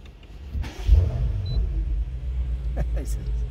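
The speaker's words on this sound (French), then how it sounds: "on va écouter un peu le son du moteur" A powerful BMW car engine idles steadily with a deep low rumble after starting, heard close up inside the leather-trimmed cabin, with a few faint clicks and brief murmured voices.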